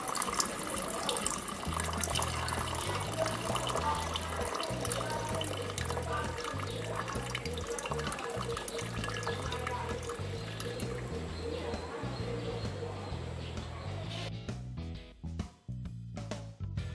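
Rinse water poured off precipitated gold powder during gold refining, a steady flowing and splashing stream that runs for most of the stretch, then breaks into a few uneven trickles and drips near the end.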